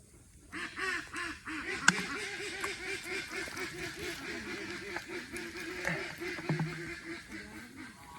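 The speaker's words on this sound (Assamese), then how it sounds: "হাঁহবোৰ যে কান্দে কুকুৰাবোৰ কান্দে এইবোৰ হৈছে মোৰ ভাগৰ বেকগ্ৰাউণ্ড মিউজিক" Ducks quack steadily in a rapid, overlapping chorus at moderate distance, with a sharp click partway through.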